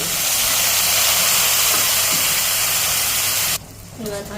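Jackfruit seed dal spices of ginger, cumin, dried chilli, turmeric and salt frying in a pan give a loud, steady hiss of sizzling that cuts off abruptly near the end, followed by faint splashing.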